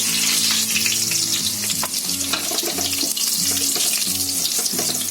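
Whole spices and red chillies sizzle and crackle steadily in hot oil, a bright continuous frying hiss with a faint tonal hum underneath, close by.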